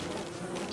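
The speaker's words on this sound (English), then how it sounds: "that's a lot of bees" Bees swarming in Don't Starve Together, a dense, steady insect buzz filling the whole moment at close range with no talk over it.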